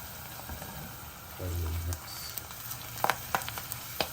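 Spices tempering in hot oil with curry leaves and asafoetida for dal tadka, a steady crackling sizzle with sharper pops and stirring clatter toward the end, and a brief low voice or hum partway through.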